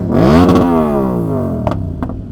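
A BMW S1000RR sport motorcycle at a cars and coffee meet revs hard, its loud, close engine note climbing and then sliding down in pitch over about two seconds, followed by a few clattering knocks.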